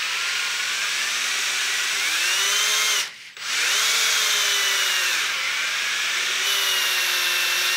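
A trim router spins a wooden dowel at high speed for sanding. Its loud, close, steady whine shifts pitch as the load changes, cuts out briefly, then spins back up.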